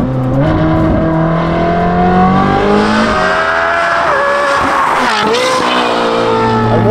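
A high-compression car engine revs hard up toward its 9,000 rpm redline, loud and close, with rising and falling harmonic sweeps and sharp blips between throttle pulls.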